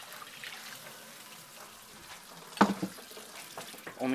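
Water pours and trickles into a pan for a few seconds while making Spanish rice, followed by a brief splash and clatter, with a faint sizzle underneath.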